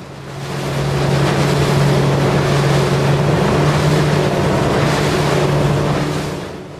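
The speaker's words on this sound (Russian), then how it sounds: "Мы видим, что пилот зеленой лодки был шустрее на старте" Small outboard-powered boats race on open water, driven by Suzuki DT15A, Suzuki DT9.9A and Yamaha 9.9FMHS motors. A steady, loud engine drone blends with wind buffeting and water noise, swelling in and fading out, with no talk.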